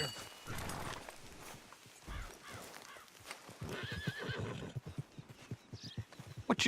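Horses neigh and hooves clip-clop in Red Dead Redemption 2, several whinnies rising over steady hoofbeats at moderate distance, with faint game ambience and no clear talk.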